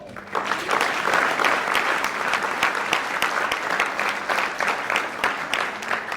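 Loud, sustained applause from a theatre audience for a cast of first-time stage actors at a community play, dense steady clapping with scattered sharper claps lasting throughout.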